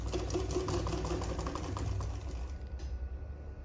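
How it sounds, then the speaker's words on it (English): A sewing machine stitches down a seam on a sleeveless gown, a steady, quiet mechanical whir with a light rhythmic clatter that cuts off near the end. "Then I'm just going to sew it down."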